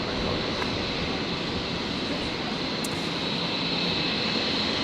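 A jet airliner takes off from runway 01 right at Brisbane International Airport, a steady, loud broadband engine roar that holds at an even level throughout, with no voices over it.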